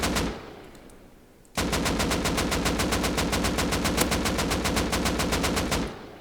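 Rapid automatic gunfire in the video game Rust, a quiet lull and then a loud, sustained burst of evenly spaced shots lasting several seconds before it stops abruptly.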